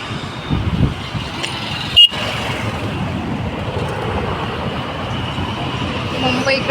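Heavy traffic rumbles along the Khandala ghat road toward Mumbai. A dense, continuous drone of trucks and cars passes close and loud, with one sharp knock or click near the middle. No one speaks.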